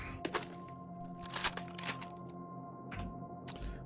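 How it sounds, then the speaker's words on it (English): Reloading a Browning machine gun in Cataclysm DDA: a few sharp metallic clacks and thunks, spread unevenly over a steady game hum with tonal music in the background. "Reload the Browning."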